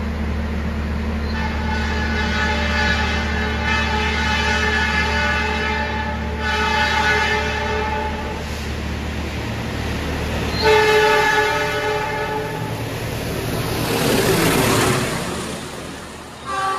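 Mutiara Selatan passenger train rolling past a station in Indonesia, a loud continuous rumble of wagons with repeated horn blasts rising over it, close and sustained throughout.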